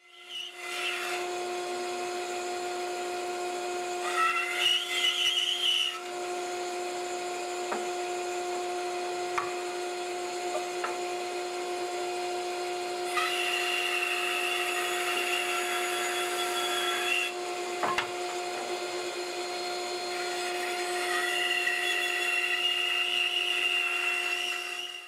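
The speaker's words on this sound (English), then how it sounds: "When bandsawing, try to keep your motion smooth and even." A bandsaw slices through wood for a handmade heirloom rocking horse, a steady close whine with bursts of louder cutting as the blade bites, continuous for the whole stretch with no talking.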